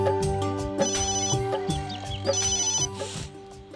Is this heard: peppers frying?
no